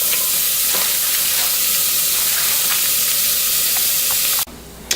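Bacon frying in a pan for macaroni and cheese, a loud, continuous close-up sizzle with faint crackles that cuts off abruptly near the end, leaving a quieter hiss.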